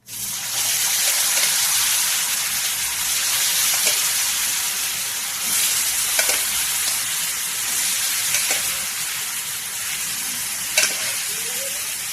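Steady hiss of mango pieces frying in hot spiced oil tempering runs throughout, with occasional small pops and stirring scrapes.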